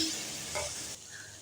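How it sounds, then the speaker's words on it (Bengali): Food frying with salt and turmeric in a pan makes a short, soft sizzle with a brief stirring scrape in the middle. "লবণ দেব হলুদের গুঁড়ো দিয়ে তারপর আমি নাড়াচাড়া করে ভেজে নেব"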